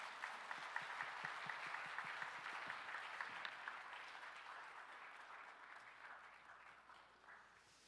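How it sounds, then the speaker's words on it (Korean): A congregation at an autumn Baptist fellowship gathering applauds a pastor with fairly quiet, steady clapping, individual claps audible at first, gradually fading toward the end. "우리 크게 박수해 주시기를 바랍니다"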